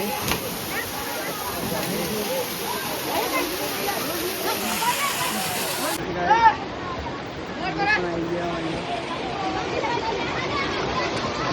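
Water rushing steadily at a small waterfall on an outing with friends, a constant broadband wash under continuous chatter and crowd babble, with a brief splashy burst midway.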